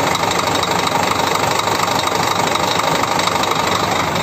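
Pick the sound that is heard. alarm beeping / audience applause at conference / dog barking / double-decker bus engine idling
double-decker bus engine idling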